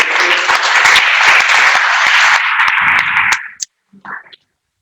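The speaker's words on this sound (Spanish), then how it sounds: "Vamos a dar un fuerte aplauso." Loud applause from a church congregation fills most of the moment, dense and sustained, then cuts off abruptly near the end, followed by a brief faint voice.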